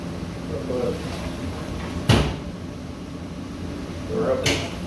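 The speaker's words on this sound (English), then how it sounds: "Door closed." Heavy door of a metallurgy furnace bangs shut twice, sharp metallic thuds about two seconds apart, over a steady hum of machinery.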